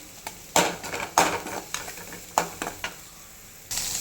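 Half a green chili frying in hot oil in a pan, with a few sharp clanks of a spoon against the pan over a soft, steady sizzle.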